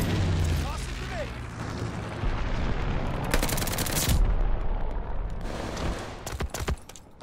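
A grenade goes off amid heavy gunfire in a Call of Duty: Vanguard match, with loud rattling shots and booming blasts filling the mix, punctuated by sharp bursts near the middle and end, and game voice lines underneath.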